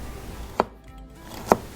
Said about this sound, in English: Cut into thin slices.